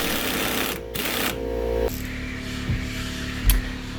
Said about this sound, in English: I'm using my impact wrench here to try and loosen the top nut on the shock absorber.